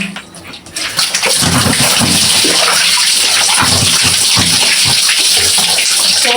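Water poured over a person's head while bathing, a loud, close, continuous gushing splash that starts after a quiet moment and keeps going steadily.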